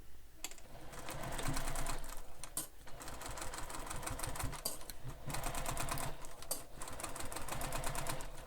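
A sewing machine stitches a bag seam in steady rapid bursts of needle clatter, pausing briefly between runs, close and fairly loud with no talking.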